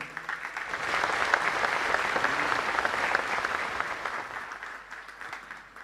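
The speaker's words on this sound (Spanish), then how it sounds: "Reconocemos su acompañamiento con un fuerte y caluroso aplauso" A congregation at a Catholic parish mass, celebrating a priest's 31st anniversary of ordination, gives warm, sustained applause that fills the church, swelling and then slowly fading.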